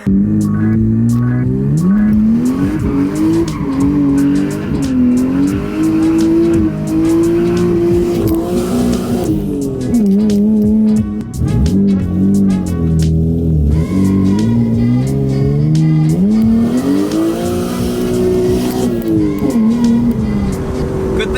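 A Lexus SC300 drives and accelerates, its engine note rising and falling in pitch through steady, loud revving that runs continuously with no pauses.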